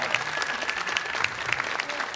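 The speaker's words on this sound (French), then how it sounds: "Une bonne main d'applaudissements." An audience claps together at a live comedy evening in an Ottawa public library, dense and steady applause filling the room for a couple of seconds.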